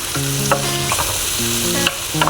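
Garam masala and sugar stirred into a masala for Northern-style paneer butter masala in a frying pan, giving a steady close sizzle with soft scraping stirs over a continuous humming tone.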